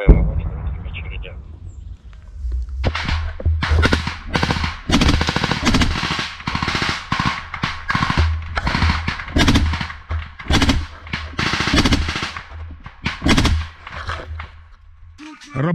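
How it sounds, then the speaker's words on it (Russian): Loud, close machine gun fire in repeated rapid bursts with short gaps between them, and voices shouting in Russian in between, during combat near Robotyne, Ukraine. "Стоп, стрельба, пулеметы! Стоп, стрельба!"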